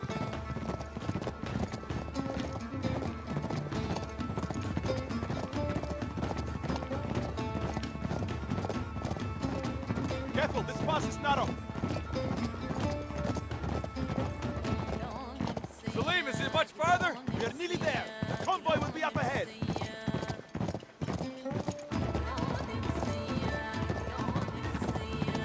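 Horses galloping in the video game Uncharted 3: Drake's Deception: rapid, loud clip-clop hoofbeats running continuously, with a whinny, game music and someone talking over the rhythmic pounding.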